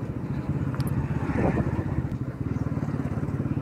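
A motorcycle ridden slowly along a jerky, bumpy road in Gumla, Jharkhand, its engine thumping in a steady close pulse with light clattering as it moves over the uneven surface.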